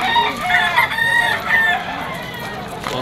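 A bull stag gamecock crows loudly and close at a weekend sale market in Malabon, giving one drawn-out cock-a-doodle-doo with clucking and faint background chatter.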